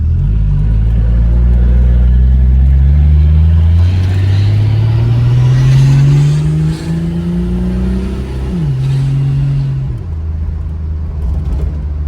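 Turbocharged Chevrolet Nova engine, timing advanced and idle lowered, revs up in a loud, close, steady climb, drops sharply, then settles back toward a rumbling idle, with no talk.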